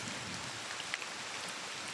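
Heavy rain pours in a continuous dense hiss with a low rumble beneath it and a few isolated drop ticks. The sound is steady and close, with no voices.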